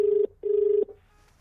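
A telephone rings during a call with two steady electronic tones, each lasting about a quarter to half a second, separated by a short gap and followed by quiet.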